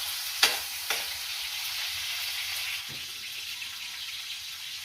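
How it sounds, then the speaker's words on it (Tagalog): Bitter melon (ampalaya) sautéing in a pan gives a steady close sizzle, with two sharp stir clanks near the start and a quieter scrape later, and no talking. "Luto tayo ng ginisang ampalaya."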